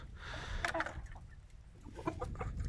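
A young rooster kept alone in a coop clucks in a few short, faint calls against low background rumble, with no talk.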